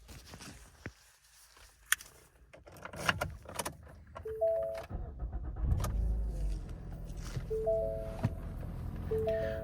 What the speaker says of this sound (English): I'll start up the vehicle, let you guys take a listen